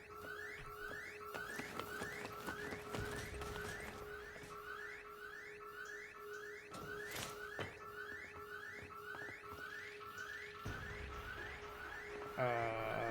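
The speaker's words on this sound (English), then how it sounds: "The alarms are going." A security alarm in Syndicate warbles in a steady, repeating rising chirp pattern over a constant electronic hum, with scattered impacts and game effects layered on top throughout.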